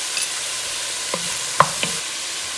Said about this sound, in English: Let the onions cook and turn translucent.